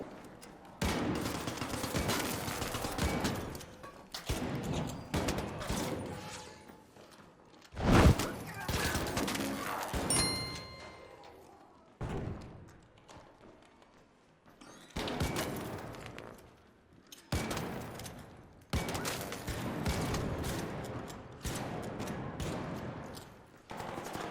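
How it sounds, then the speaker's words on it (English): Il Toro pump-action shotgun blasts in ARC Raiders, heavy shots in separate bursts with short gaps between them, mixed with other combat noise, and a voice talks over parts of it. "This pump-action insanity can send people back to Speranza in under 1 second, and your gameplay will look like this"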